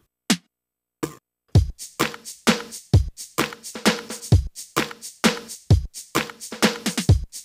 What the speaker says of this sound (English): I use a clap on the first snare and a different kind of snare